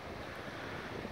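Ocean waves and wind along the English coast with its rocky cliffs, heard as a steady, broad wash of surf and blustery wind noise, faint and continuous with no voices.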